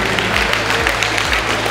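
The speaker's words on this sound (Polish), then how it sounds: "gorące brawa dla tych medalistek" A crowd applauds medal-winning girls at a school championship in a sports hall, a brief, steady wash of clapping with no break.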